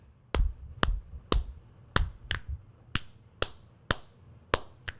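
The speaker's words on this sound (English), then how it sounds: "All right, so snaps and claps." Crisp finger snaps and claps land in a steady beat, about ten sharp hits spaced evenly, close and loud with no talking.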